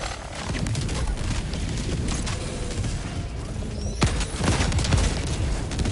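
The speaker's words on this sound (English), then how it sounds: "I'm gonna clear the area with this napalm. Barrage incoming." In the video game Helldivers 2, a napalm barrage lands as a dense, rolling string of explosions with heavy low rumble and crackling bursts. It stays loud and steady throughout and swells toward the end.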